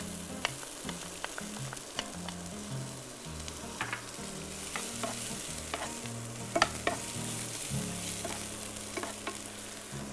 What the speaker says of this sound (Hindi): ये मेरा गार्लिक गया सारा पैन में। इसके साथ ही मैं इसमें ऐड कर लूँगा ये चॉप किया हुआ